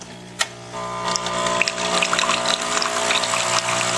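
Nespresso Essenza Mini coffee machine pumping hot water through a rinse cycle: a steady, close mechanical pump drone with a watery hiss and faint rattling, starting after a short click and holding level to the end.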